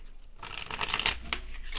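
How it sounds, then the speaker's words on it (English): Tarot cards riffled and shuffled by hand, a short close-up burst of crisp flapping card noise lasting under two seconds, fairly quiet, no talk. "That was not a good shuffle."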